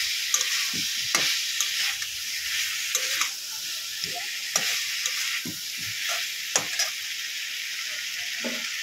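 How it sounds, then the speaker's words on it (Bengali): Malabar spinach greens tossed into frying potato and pumpkin sizzle continuously in the pan, broken by repeated spatula scrapes and knocks at an irregular pace, close and clear with no talking. "এবারে এর মধ্যে আমি শাকটা দিয়ে দেবো।"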